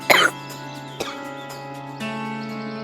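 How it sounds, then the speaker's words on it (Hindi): One sharp cough rings out close by near the start, followed by a quieter throat sound, over a background of sustained tonal music. "फिर से खांसी उड़ गई।"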